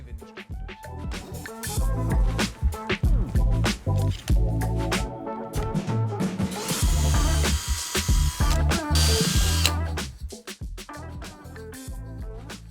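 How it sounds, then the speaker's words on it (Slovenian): A power drill bores two 4 mm holes through three aligned wooden boards for threaded rods, a loud continuous whirring grind with shifting pitch, close by and without speech. "poravnamo 3 deske in izvrtamo 2 4 mm luknji za navojne palice"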